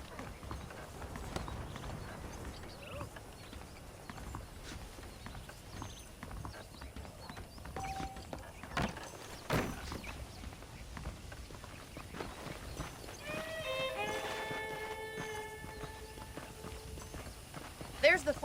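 Horse hooves clip-clop steadily in Red Dead Redemption, a soft, even walking rhythm in the background under ongoing talk, with a brief tonal musical swell near the end.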